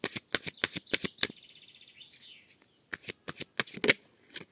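Tarot cards shuffled and drawn, with a run of crisp riffling snaps, a pause filled by a soft sliding rasp, then another flurry of sharp card flicks, close and fairly quiet.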